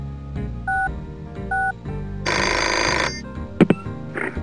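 Telephone dialing tones in the video game Pajama Sam 2: two short paired keypad beeps, then a burst of ringing or buzzing line tone, followed by a couple of sharp clicks and a faint electronic chirp over background game music.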